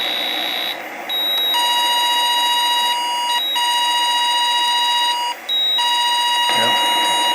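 Fire sound effect from a 1974 Computer Space arcade board set under repair: steady electronic tones with high harmonics, briefly dropping out about twice, continuous and loud.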